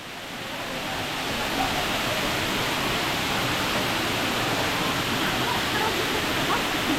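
Kato Lampo waterfall in Gianyar, Bali, gives off a steady, loud, unbroken roar of falling water that fills the whole clip without pause.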